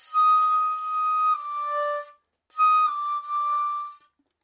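A single sustained shakuhachi note, tsu meri in the third octave, played twice as clear breathy tones with a brief gap between, close and fairly loud, with no talking.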